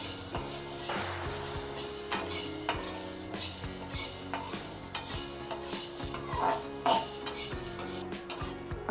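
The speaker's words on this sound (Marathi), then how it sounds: "आता आपण जाडे पोहे घेतलेले आहे ते सुद्धा आपण थोडेसे हलकेसे भाजून घेऊया" Thick poha dry roasting in a pan, stirred with a utensil that scrapes and clinks against the metal in a steady, uneven rhythm, close and fairly loud with a light sizzle underneath.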